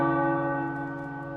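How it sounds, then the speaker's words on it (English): Tower bells tolling in the video game Marvel's Midnight Suns, a single resonant strike with a rich sustained hum that slowly decays, heard alone. "The tower bells are ringing"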